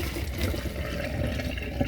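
Water pours off freshly cooked macaroni as it is drained in a kitchen, a steady rushing splash lasting a couple of seconds with no talking.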